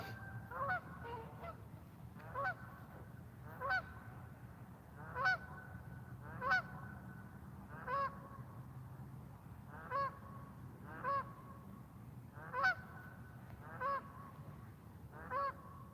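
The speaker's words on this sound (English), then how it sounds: "goose." A goose honks repeatedly at a steady pace, about a dozen separate calls at fairly even intervals, heard at a distance over a low, constant background rumble in an outdoor setting at sunrise.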